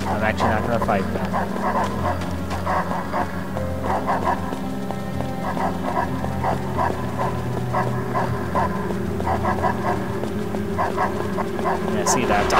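Several dogs bark and whimper in the video game Fragile Dreams: Farewell Ruins of the Moon, short yips and barks repeating over dense game music and ambience while a person talks.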